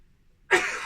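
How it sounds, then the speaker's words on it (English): A single sudden sneeze from a man repairing equipment in a workshop, bursting out close and loud after near silence and trailing off briefly. "I'm going to sneeze."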